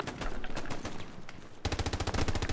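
Rapid bursts of automatic gunfire in a war video game, with a looser volley giving way to a tight, loud, evenly spaced string of shots.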